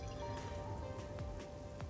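Steady rain hisses down in the game Master Detective Archives: Rain Code, with occasional louder drops standing out against a constant low rumble and a faint sustained tone.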